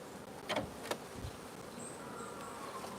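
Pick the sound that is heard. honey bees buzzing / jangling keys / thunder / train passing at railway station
honey bees buzzing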